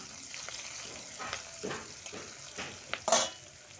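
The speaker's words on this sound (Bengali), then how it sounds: "পেঁয়াজ আর কাঁচা লঙ্কাটা দিয়ে একটু ভালো করে ভেজে নেব।" Onion and green chilli fry in oil with cumin, a quiet close sizzle with several brisk stirring scrapes and a louder clatter near the end.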